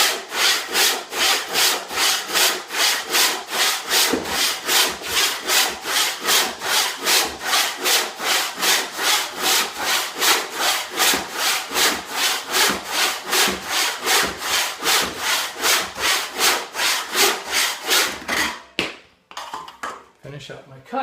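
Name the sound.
hand saw cutting wood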